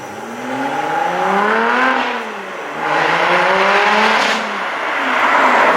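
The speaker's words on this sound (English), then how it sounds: "this thing, with its supercharger whine, with its blow-off valve noise in between shifts, sounds absolutely mind-blowing" A supercharged V6 Lotus Evora GT revs hard and close with a whining supercharger, pitch climbing through repeated gear shifts in a loud, sustained roar.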